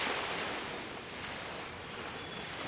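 Water sloshes inside a plastic bottle held close to the microphone, making a soft, continuous washing rumble with a faint steady hiss and no voices.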